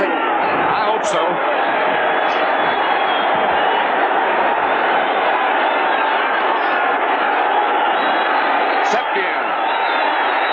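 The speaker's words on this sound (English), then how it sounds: "the crowd is going to be this loud the entire game" Roaring stadium crowd at a 1979 Dallas Cowboys versus Philadelphia Eagles football game, a dense continuous wall of cheering and noise held steady and loud throughout.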